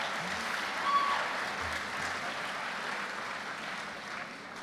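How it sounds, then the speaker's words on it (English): Applause for students at a summer program closing ceremony, a steady, moderately faint wash of clapping that holds evenly throughout. "Let's give yourselves a round of applause for that."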